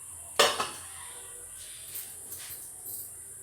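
A plate set down over a pot of simmering chalkumro greens with green chillies, giving one bright clattering clink followed by a short rattle, then faint light scrapes and a steady background hiss.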